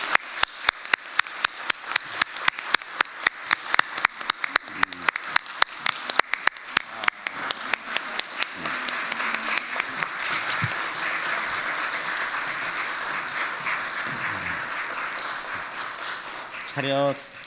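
A congregation at a church graduation service for adult discipleship course graduates gives sustained applause, starting with sharp, evenly spaced claps that swell into a dense, steady roar of clapping, with a few voices underneath.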